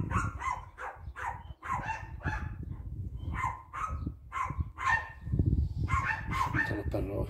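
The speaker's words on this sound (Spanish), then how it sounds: "Están los perros." Several dogs bark repeatedly at a middle distance, sharp yelping barks coming in uneven bursts over several seconds, with some overlapping calls and a background murmur.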